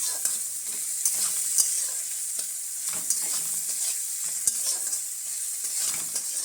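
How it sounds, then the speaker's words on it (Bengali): Onions frying in a pan with a little salt, stirred briskly, giving a steady close sizzle with repeated scraping and tapping of the spatula against the pan, no voices. "পেঁয়াজগুলো ভাজা হয়ে গেছে"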